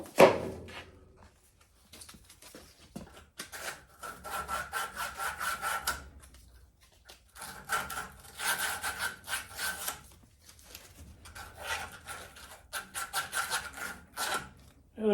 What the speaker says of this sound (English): They're stainless, so I'm going to clean them up with a little sandpaper.